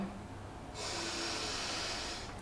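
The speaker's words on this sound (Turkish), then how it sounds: "gözlerimizi kapatalım, derin bir nefes alalım." A deep inhale drawn through the nose during a Sat Nam Kundalini meditation, a close, steady airy rush lasting over a second and a half, alone in a quiet room.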